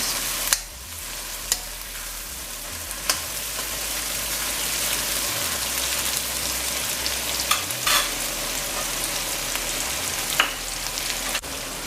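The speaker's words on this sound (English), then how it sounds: "Gonna let this fry for a bit." Black swamp shrimp and onion fry in a pan for a shrimp and saijan bhaji curry, giving a steady close sizzle and hiss broken by occasional sharp utensil taps, with no voices.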